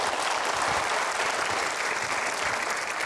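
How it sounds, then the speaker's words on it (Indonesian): An audience claps steadily and loudly throughout, a dense even wash of applause with no pauses, at a televised talk show. "Kita berikan aplaus sekali lagi."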